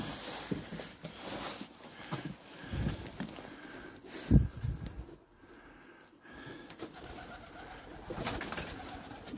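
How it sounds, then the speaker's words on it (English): Pigeons coo softly inside a dilapidated abandoned building, with low murmuring calls, rustling and a brief thump in a hollow, echoing space. "pigeons."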